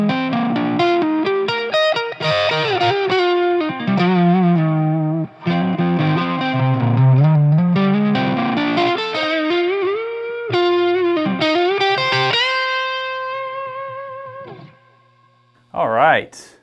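Electric guitar with overdriven tone runs cascading blues scale licks built from two-note-per-string patterns, fast flowing note lines with a brief pause near the end, loud and close, no voices.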